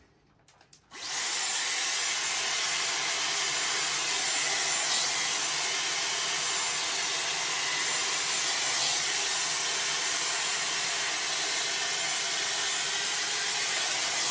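Dyson Airwrap switching on and blowing air while drying hair at the roots: a sudden start, then a steady, loud, hissing whoosh with a faint high whine that holds unchanged throughout.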